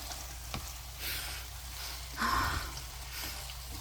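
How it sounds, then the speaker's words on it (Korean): Noodles being mixed with garlic soy sauce, giving soft wet squishing and stirring noises with a slightly sizzling, slick texture and one louder squelch near the middle, close up with no voices. "간장 소스를 넣어서 비벼주세요"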